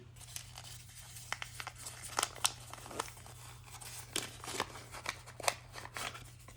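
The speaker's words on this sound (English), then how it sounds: "So let's go ahead and unbox this artifact here." Close, crisp tearing and crinkling of Star Wars wrapping paper as a collectible figure is unwrapped, in irregular bursts of rips and rustles with no talking.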